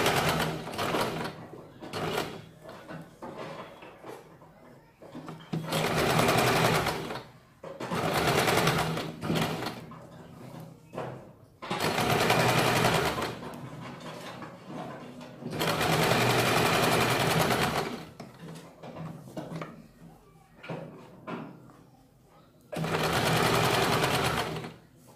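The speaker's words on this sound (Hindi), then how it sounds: "कैनवास के ऊपर हमें ये सिलाई लगानी है" A sewing machine stitches onto canvas paper for a blouse back, running in several loud, steady bursts of a few seconds each with quiet pauses between them.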